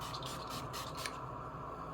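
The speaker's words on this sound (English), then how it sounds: "So I'm just spraying it all over my face." Urban Decay All Nighter setting spray is misted onto a face in a quick series of short, close hissing spritzes over a steady background hum.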